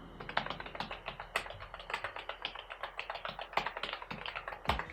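Rapid, steady clicking of NUBWO NK32 keyboard keys pressed fairly hard, soft and close, with no voices.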